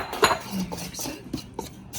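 A utensil scrapes and clinks against a bowl as a flour mixture with salt is mixed into zucchini banana bread batter, giving a few short taps and scrapes close up.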